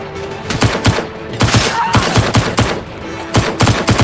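Repeated gunshots from Blade & Sorcery, fired as warning shots, crack out in an irregular burst of about a dozen sharp, loud reports across a few seconds.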